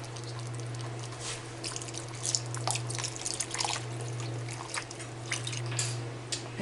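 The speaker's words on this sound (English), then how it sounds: "you're also going to add a 32 ounce of beef broth." A 32-ounce carton of beef broth poured into a pot of keto chili, a steady liquid trickle and splash with small drips over a constant low hum, close and moderately quiet, no voices.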